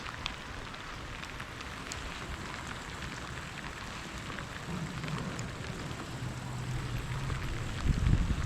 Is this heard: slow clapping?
no